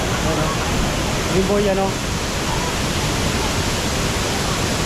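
Maranong Falls waterfall in Natividad, Pangasinan, a broad steady rushing roar filling the scene, with someone briefly speaking over it near the start.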